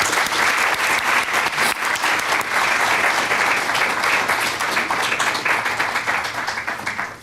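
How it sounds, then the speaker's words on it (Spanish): An audience at a business seminar gives a sustained, dense round of applause, loud and close, holding steady throughout before tapering at the very end. "Les brindamos un muy caluroso aplauso con nuestro agradecimiento"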